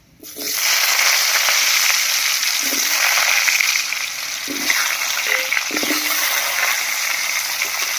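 Cut potatoes hitting hot oil with dried chilli and whole cumin, a loud, steady sizzle after a quiet start, with a few soft knocks of stirring along the way.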